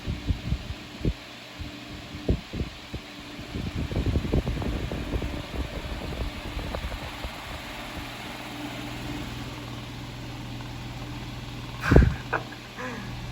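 A 1996 Super 12-inch desk fan with new, shallow-pitched blades whirs steadily with a low hum and uneven throbbing pulses, and a brief knock sounds near the end.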